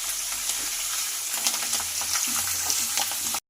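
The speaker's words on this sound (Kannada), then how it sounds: "ಇದನ್ನು ನೀಟಾಗಿ ಫ್ರೈ ಮಾಡ್ಕೊಳ್ಳಿ." Tempering for raw mango chitranna sizzles and crackles steadily in hot oil over a low flame, a dense continuous fry with scattered pops from start to finish and no voices.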